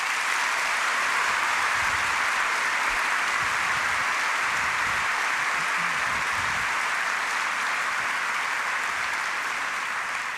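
Sustained applause from a large audience for three panelists after a debate on Islam, dense steady clapping that holds loud and even throughout with no voices above it.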